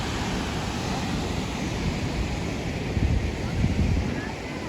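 A steady, loud rush of falling water from the Muradiye waterfalls in Van, Turkey, fills the air continuously, a broad roaring wash with slight swells of intensity and no distinct breaks.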